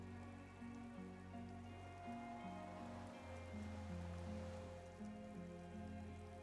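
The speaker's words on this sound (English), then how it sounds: "there is almost no wind under the rain quietly falling on the reeds" Rain falling quietly on reeds and bulrushes at a waterline in the game Disco Elysium, a soft continuous patter beneath sustained low musical tones, with no talking.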